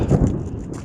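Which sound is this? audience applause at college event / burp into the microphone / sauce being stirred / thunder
thunder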